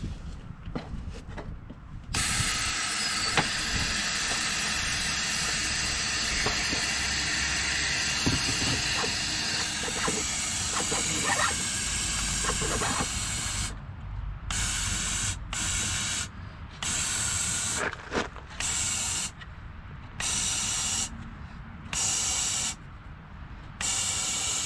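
A steady hiss of a spray gun coating the inside of a Chevrolet Cobalt's rocker panels runs continuously, then breaks into short bursts with brief pauses between them near the end.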